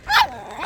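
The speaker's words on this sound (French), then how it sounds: "On a un spécimen très rare comme chien." A dog on a family walk near a lake gives a short, close bark or yip, followed by quieter, drawn-out whining sounds before another rising yelp at the end.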